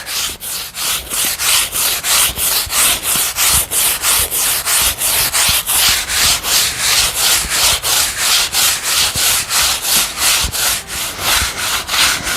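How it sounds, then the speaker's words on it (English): A brush scrubs a concrete sidewalk or patio surface in quick, even back-and-forth strokes, a loud, close, rhythmic rasping that continues without pause or talk. "And then you basically just give it a light scrubbing."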